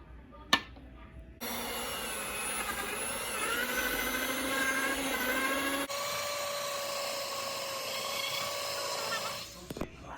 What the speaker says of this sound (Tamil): நார்மல் ஹேண்ட் மிக்சர்லாம் செய்ய போகிறோம் ஸோ நான் செய்கிற நேரம் காட்டுறேன் உங்களுக்கு இப்போ பார்த்தீங்கன்னா பட்டரை பீட் பண்ணுவோம்